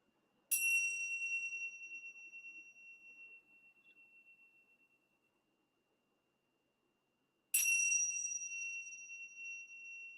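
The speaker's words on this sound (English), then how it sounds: "Allowing the sound of the bell to be that call to the present moment." A meditation bell rings twice during a guided service, each strike bright and ringing with a long fading shimmer, the second coming about seven seconds after the first, near and clear over a quiet room.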